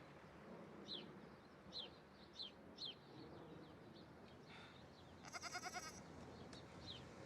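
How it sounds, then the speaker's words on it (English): Goat bleating in a scene from The Sopranos, several short wavering calls spaced a second or so apart over a steady outdoor background, followed by a brief bright rattling burst, with no talk. "That's the goat."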